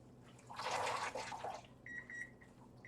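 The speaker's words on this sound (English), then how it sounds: "Let me just squeeze this out and come and show you." Water splattering as tie-dyed cotton yarn is squeezed out by hand, a brief wet burst of dripping and trickling followed by a few faint electronic beeps.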